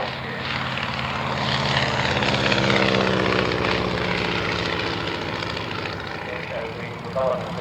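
A propeller aircraft with four ailerons, one on each wing, flies at the Shuttleworth evening air display, giving a steady droning engine note that swells and holds throughout while someone talks over it.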